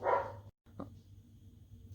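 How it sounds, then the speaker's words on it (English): A dog gives a single short bark, close and moderately loud, followed by a faint second yelp and then quiet room background. "Dogs are barking, and so I had to go put them outside."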